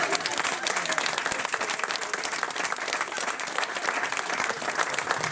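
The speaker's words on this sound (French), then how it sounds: "Merci d'applaudir Flo, ouais." An audience claps for Flo at a live show, a steady, fairly loud wash of applause that runs throughout without speech.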